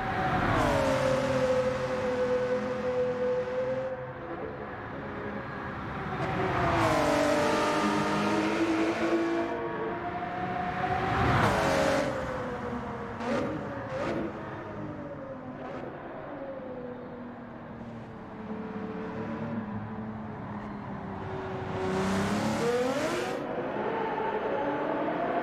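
A race car laps a circuit in Gran Turismo 7 on the PS5, its engine droning loudly and steadily with rising and falling pitch as it shifts gears and corners, with no one talking.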